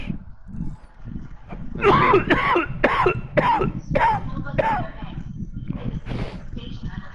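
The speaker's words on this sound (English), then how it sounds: "I should have called this shit coughing session." A man in a harsh coughing fit, a run of about seven rough hacking coughs in quick succession, close and loud, easing into throat clearing and breathy noises.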